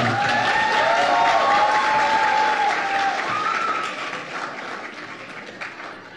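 Audience applause after a performance at a Habib University program in Karachi. Full, sustained clapping with some cheers on top, holding strong before tapering off toward the end.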